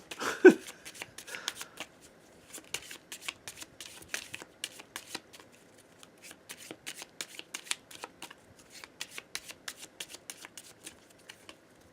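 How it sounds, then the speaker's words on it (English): Playing cards are shuffled repeatedly, with crisp riffling bursts and soft flicks coming in quick clusters at close range, fairly quiet overall. "I shuffle this card into the draw pile"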